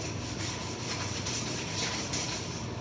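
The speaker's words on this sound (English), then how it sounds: "Nice and smooth, but you still want to sand it at least a little bit." Steady, continuous sanding scrape on a coated wooden end table, a close, even rasp of abrasive against the finished surface that holds at the same level from start to finish, with no pauses and no voices.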